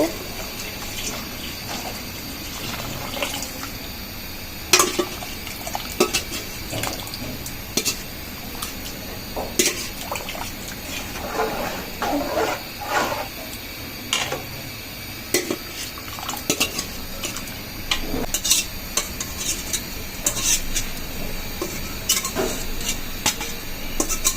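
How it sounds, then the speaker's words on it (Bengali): Haleem mix tipped into a cooking pot and stirred, with clinks and scrapes of a utensil against the metal pot in an irregular rhythm over a steady background hiss; occasional faint voices can be heard. "এখন আমরা হালিম মিক্সগুলো ঢেলে দিব"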